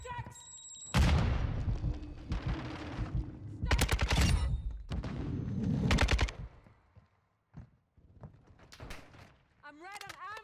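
An RPK light machine gun in Modern Warfare 2 fires in several loud, rapid automatic bursts separated by pauses, with a brief voice near the end.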